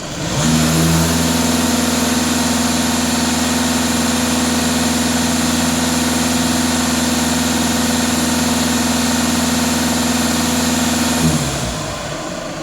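A Skoda VRS diesel engine holds a steady, loud droning idle close up for about eleven seconds, then settles and fades at the end.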